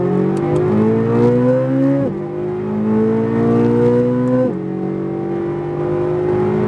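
A Chevrolet Corvette Z06 accelerating out of a turn on a racetrack, its engine note climbing steadily, dropping at an upshift near two seconds, climbing again and shifting once more, loud and close throughout.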